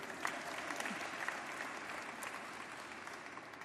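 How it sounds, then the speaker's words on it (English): Continuous applause from an audience at a San Francisco South Asian American Heritage Month celebration, a fairly quiet, steady wash of many hands clapping at some distance, heard alone without speech. "You can clap for that."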